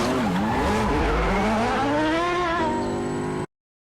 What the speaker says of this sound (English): the actual note of the engine changed. It, like, went from cross-plane to flat plane to high-revving low displacement